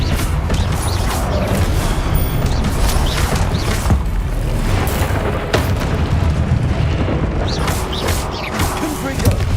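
Confringo blasting spells go off in the Hogwarts Legacy video game, repeated booming impacts over a loud, rumbling battle din, with a voice speaking now and then.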